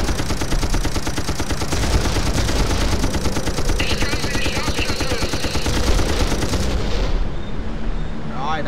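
Rapid sustained gunfire aimed at ships in a naval combat video game, dense machine-gun bursts and booming cannon shots pounding continuously and loudly, cutting off abruptly near the end.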